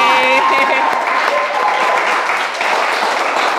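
A studio audience applauds at a quiz game show, a dense, steady wash of clapping that fills the whole stretch, with a few brief tonal sounds near the start.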